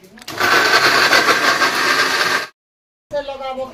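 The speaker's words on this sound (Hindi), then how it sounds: "ए देखो न्यू वाला ग्राइंडर" A new electric mixer grinder whirs steadily at full speed for about two seconds, then cuts off abruptly; after a short silence a person starts talking.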